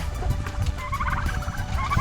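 Young turkeys on a farm gobble in a continuous overlapping chorus, fairly close and steady, with no talk.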